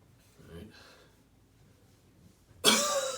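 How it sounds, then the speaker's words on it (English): A person coughs while pulling the abdomen up and in during a breathing and coughing exercise: one sharp, loud, close burst near the end after a quieter breathy sound. "And then just pulling up and in as I'm coughing."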